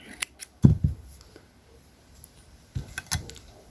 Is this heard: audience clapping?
no